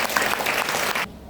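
A short burst of audience clapping for a school storytelling competition team that stops abruptly after about a second.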